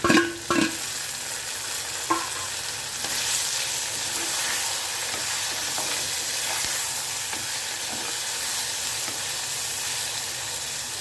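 Whole green chillies, pierced with small holes, sauté in hot oil in a pan: a loud, even hissing sizzle throughout, with a few knocks and spoon clatters at the start and occasional scrapes after.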